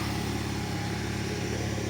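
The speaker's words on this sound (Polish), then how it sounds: "wentylator nam się tutaj włączył." A steady mechanical whir of the cooling fan on a 2006 Yamaha FJR 1300 motorcycle runs continuously alongside the engine hum, even and unchanging throughout.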